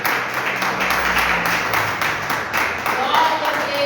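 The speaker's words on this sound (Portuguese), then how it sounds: "Palmas para Jesus." A church congregation claps together during a Portuguese-language worship service, steady broadband clapping filling the space alongside voices and some musical tones underneath.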